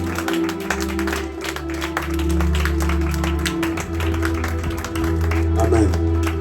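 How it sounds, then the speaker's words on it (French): A church congregation claps while a preacher talks over sustained keyboard music, the applause mixed with scattered taps and the amplified voice. "Applaudis le Seigneur."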